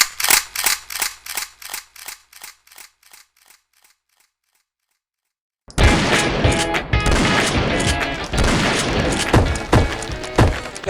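A rapid run of sharp gunshots cracks out in a grouse-hunting comedy sketch, thinning to sparse pops and a brief silence before a dense, loud burst of mixed shots and thuds takes over.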